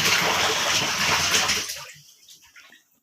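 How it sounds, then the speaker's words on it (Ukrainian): Soaking water pours off salted fish being prepared for drying, a loud steady gush that tapers into a few faint drips and splashes before stopping. "Все, зливаємо воду"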